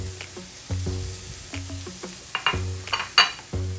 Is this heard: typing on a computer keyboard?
no